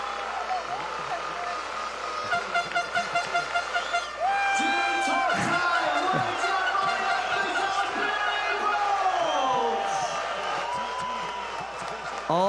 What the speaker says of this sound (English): Big round of applause for Billy Bull.